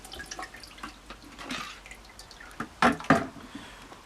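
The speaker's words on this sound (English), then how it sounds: "Dump your water out." Water from a household water filter housing is dumped into a bucket. Scattered drips lead to a couple of short, close splashing bursts.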